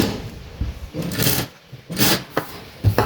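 A sewing machine stitches a round belt blouse in short, close bursts of rattling runs broken by brief pauses and handling knocks.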